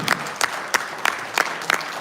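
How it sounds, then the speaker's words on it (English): A small gathering of Nigerians in London at a democracy forum gives a short round of applause, with distinct sharp claps spaced fairly evenly, close and moderately loud, no voices over them. "Can we have one more round of applause for this wonderful team?"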